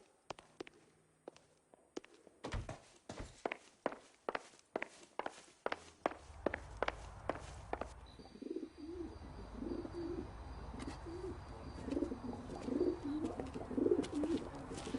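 Carrier pigeon cooing in the LA Noire video game, soft bird calls rising under a busy mix of footsteps and ambient game noise, the coos growing more noticeable toward the end.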